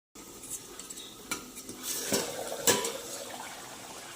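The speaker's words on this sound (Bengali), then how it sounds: "চিংড়ি মাছগুলো দিয়ে নেড়ে এখন চিংড়ি মাছগুলো ভালো করে ভেজে নিয়ে" Prawns are stirred in a pan while frying in oil for a Bengali prawn malai curry, with faint sizzling under scattered scraping and clinking of a utensil against the pan.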